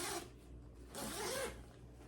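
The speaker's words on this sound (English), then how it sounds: "And it came inside of this nice little zip pouch bag." A small zip pouch bag is unzipped, two close, quick rasping zipper pulls separated by a short pause, with no talking.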